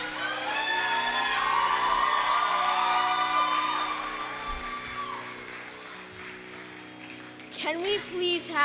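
Audience at a Kuchipudi dance recital cheers, whoops and applauds loudly for several seconds; the noise fades into a quieter murmur before a voice rises near the end.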